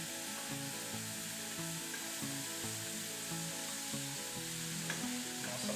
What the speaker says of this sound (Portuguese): Esse abacaxi agora vai ficar cozinhando